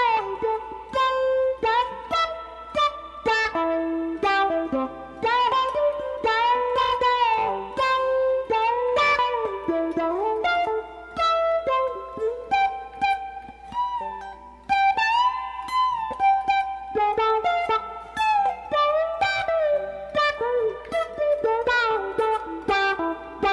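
A full guitar solo: continuous electric lead lines of rapid picked notes, bends and slides over about twenty seconds, steady and close, without speech.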